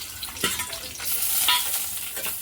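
Dried mawa (milk solids) roasts in ghee for rice kheer, giving a close, steady frying hiss broken by scraping stir strokes.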